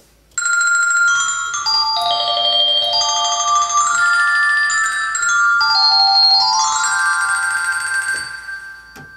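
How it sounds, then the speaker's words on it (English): Orchestra bell percussion on a theater organ rings out a flowing melody of bright, shimmering metallic tones that overlap and sustain, loud and close, fading at the end with no talking. "Or an orchestra bell."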